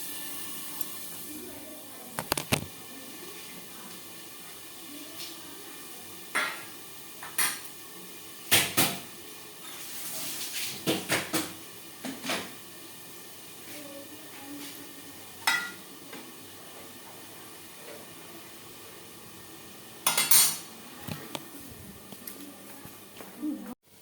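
A pot of cooked rice is lifted off a home stove, giving scattered metallic clanks and knocks of cookware over a steady low hiss of cooking, with louder bangs spaced through the stretch.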